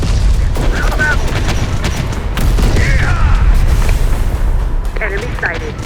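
Gunfire in the game Terminator: Dark Fate - Defiance: a steady, dense rattle of shots and booming impacts runs throughout under a constant battle roar, with electronic chirps and radio-style voices calling out over the top.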